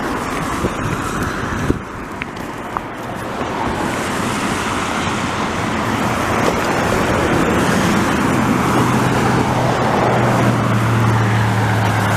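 A Toyota car rolls past on a city boulevard in Montreal's Rosemont, a broad whooshing rush of tires and traffic that slowly builds, with a low engine hum rising near the end.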